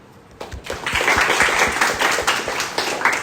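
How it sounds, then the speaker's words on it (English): Audience clapping at a space company's open briefing, a dense wash of applause that rises after a quiet start and holds steady, with scattered sharp claps standing out. "You should clap your hands because this is an achievement that we have never achieved before."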